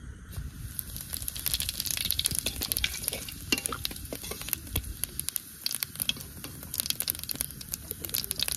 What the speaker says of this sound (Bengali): উচ্ছে ভাজা তেলের মধ্যে মশলাগুলো কষে নেব।